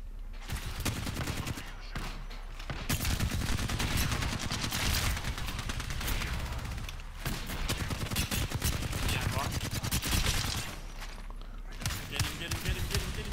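Rapid gunfire from Apex Legends: dense, loud automatic bursts rattle almost continuously, with brief pauses between volleys and a player's voice talking over parts of the shooting.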